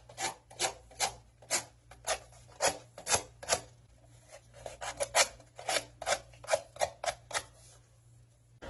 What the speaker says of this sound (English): just take maybe some like lightly used sandpaper and just smooth out the edges